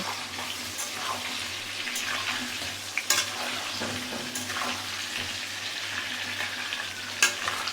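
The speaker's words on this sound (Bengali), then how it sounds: "আলুর একটু নুন দিয়ে দিলাম একদম সামান্য একটুখানি হলুদ দিলাম কালারের জন্য এবার ভালো করে এটাকে আমি ভেজে নেব" Potato pieces fry in oil with a little salt and turmeric for a mutton dish, a soft, steady sizzle broken by a couple of sharp clicks from stirring.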